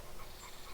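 Quick, soft panting from a dog during a training session, a short stretch of rapid breathy huffs close by with no talk.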